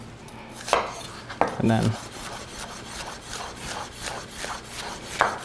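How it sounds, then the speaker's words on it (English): A sharp knife rough-chops peeled food lengthwise on a cutting board in a kitchen, giving a series of crisp taps and scraping rubs, with a short spoken phrase partway through. "So we'll just do a rough chop, so I'll chop it lengthwise."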